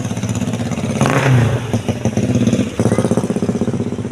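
A motorcycle engine revs in a short burst, then runs with a steady rhythmic chug, loud and close throughout.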